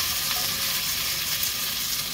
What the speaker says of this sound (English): Add pumpkin, a little sugar and salt, and then cover and let cook.